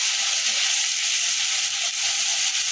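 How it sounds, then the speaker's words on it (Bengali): Onion paste frying in a pan makes a loud, dense, unbroken hissing sizzle that holds steady throughout. "পেঁয়াজ বাটাটাকে ভেজে নেব"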